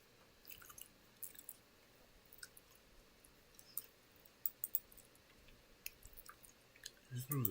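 Someone chews cold noodles close to the microphone, with soft, wet, irregular chewing and small clicks against a quiet background.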